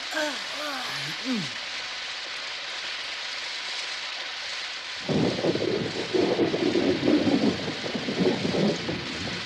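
Rain falls outside a small cave in an animated setting: after a quieter opening with faint wavering tones, steady pattering rain sets in about halfway and continues loud and dense to the end.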